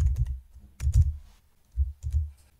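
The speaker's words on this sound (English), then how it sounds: "Type the incoming and outgoing mail servers." Bursts of quick clicking keystrokes on a computer keyboard as mail server names are typed, close and fairly loud, in two short runs separated by a pause.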